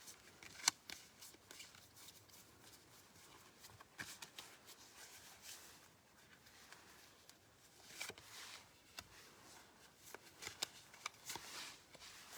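A deck of cards is shuffled for a two-card tarot-style pull, giving quiet, close riffling and rubbing with soft taps and flicks in a steady run.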